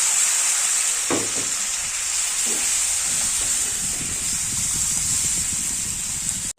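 Fried fish heads sizzling in a pan of spice masala, a constant hissing fry with a few stirring knocks and scrapes, close and fairly loud.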